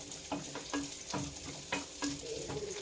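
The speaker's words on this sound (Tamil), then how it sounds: "போட்டு நல்லா மிக்ஸ் பண்ணுங்க. ப்ரௌன் கலர் ஆகணும், அது வரைக்கும் ஃப்ரை பண்ணுங்க" Onions frying in a pan until brown for a broad bean curry, a soft steady sizzle broken by regular stirring scrapes about every half second, close and moderately quiet with no talking.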